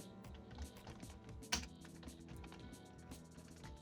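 Keys on a computer keyboard clatter softly as a student name is typed into an MS Excel marksheet, a quick run of close, light taps with no talking.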